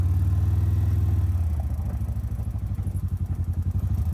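2016 John Deere Gator 590i utility vehicle with an aftermarket windshield easing forward, its engine shifting from a steady idle drone into a pulsing, throbbing rumble as it starts to roll, close and loud.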